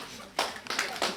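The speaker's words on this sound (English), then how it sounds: "Please clap for me." A few students clap in a mathematics classroom, giving three short bursts of claps at close range, quiet and brief.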